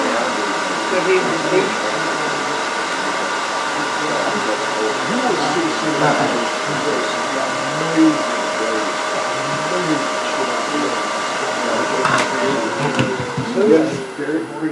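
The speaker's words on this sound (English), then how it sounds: "I'm going to use my special cutoff tool." A cutoff tool cuts a small part for a Christmas ornament, a steady high mechanical whine holding throughout, with a voice talking over it and a brief pitch drop near the end.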